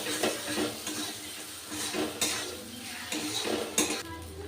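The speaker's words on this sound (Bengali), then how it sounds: "আবার আমি মশলার সাথে ভালো করে কষিয়ে নেব।" Pointed gourd sautés with spices in a pan, quiet sizzling under repeated clinks and scrapes of a metal spatula against the pan, with no talk.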